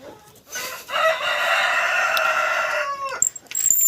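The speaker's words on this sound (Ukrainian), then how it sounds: "Курка оця, як це вона сюди попала?" A rooster crows once, a long loud drawn-out call, followed by a few short clucks and scuffling sounds nearby.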